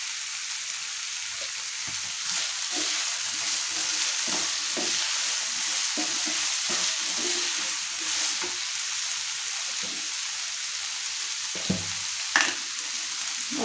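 Diced potatoes fry and sizzle in a pan, a steady close hiss broken by scattered scraping stirs and soft clinks of a utensil.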